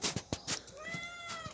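A pet cat meows several times in quick succession at close range, the calls rising and falling clearly in a quiet indoor room with no talking over them.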